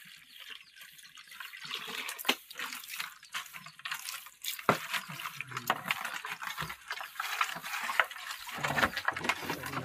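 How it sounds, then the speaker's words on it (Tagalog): Cold water splashing and pouring during a bath, in irregular sloshing bursts with sharp splashes throughout, fairly close, with no speech over it. "Masahod na ko sa tubig."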